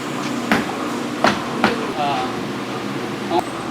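Tire changing machine at work in a tire shop, with several sharp metallic clanks and pneumatic bursts over a steady mechanical hum, close by and moderately loud.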